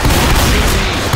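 Dense, loud burst of gunfire from the video game Left 4 Dead 2, a continuous barrage of overlapping shots filling the whole moment with no speech over it.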